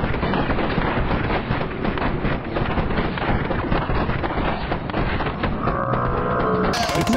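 Sustained gunfire in the Squad military shooter, a dense, loud, clipped barrage of rapid shots and rumbling blasts that never lets up, close and distorted.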